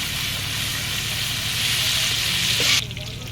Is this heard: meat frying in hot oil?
yes